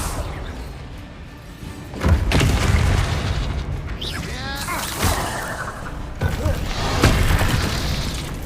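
Spell-casting explosions in Hogwarts Legacy, a run of booming blasts, whooshes and shattering crashes in loud irregular bursts, with brief voices mixed in.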